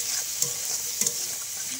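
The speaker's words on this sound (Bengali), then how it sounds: "এবার মশলাটা একটু কষিয়ে নেব।" Spice paste with turmeric frying in a pan, a close, even sizzle with two brief scraping stir strokes, no talking.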